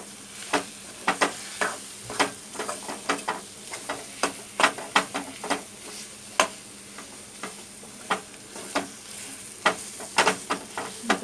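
A ground coconut and onion masala paste with ginger, garlic and garam masala fries in a pan for egg curry, punctuated by repeated sharp scraping and tapping strokes of a spoon over a low sizzle.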